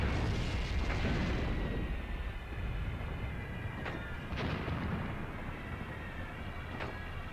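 Mortar fire in the video game Graviteam Tactics, a World War II battle around Kharkov in 1942, comes as several sharp, separate booms that sit over a steady low rumble of battle, with no talking.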